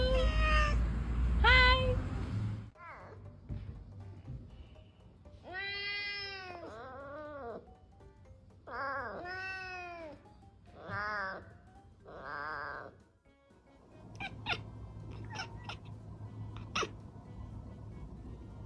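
Several cats meow in bursts of varied pitch, some drawn-out and wailing, others short and chirpy, close by; a person briefly speaks a greeting at the start, and a few faint high squeaks follow near the end.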